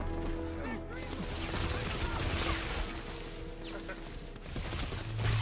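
A steady clatter of rapid video game gunfire, dense and fairly close, with sustained bursts rolling through the scene while people talk over it.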